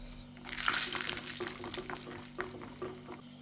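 Cashew nuts dropped into two spoons of hot ghee in a small kadai for Kerala-style palpayasam give a soft, steady frying crackle with a few brief stirring clicks, fairly quiet and close, with no voices.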